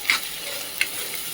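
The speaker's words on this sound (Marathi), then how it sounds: "तर अद्रक लसूण पेस्ट टाकून परत मस्त परतून घेऊया." Ginger-garlic paste sautés with onion, tomato and green chili for paneer bhurji: a close, bright sizzle broken by two quick scraping stirs.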